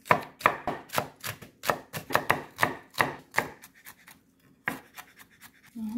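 A knife finely chopping the white part of a green onion on a cutting board, in rapid crisp taps that come in quick bursts and then stop, close and alone.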